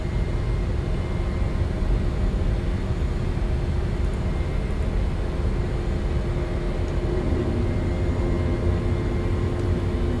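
A KLM Embraer 190 in Microsoft Flight Simulator 2024 roars steadily through its takeoff, a dense, constant jet engine rumble holding at even loudness without a break.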